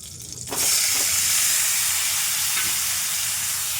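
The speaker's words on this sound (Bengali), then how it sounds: "এবার এঁচোড়টা ভেজে নেব।" Raw jackfruit dropped into hot oil in a pan, cooked for a jackfruit and prawn dish: a sudden loud sizzle bursts up after a brief quiet moment and holds steady and close, with no talking.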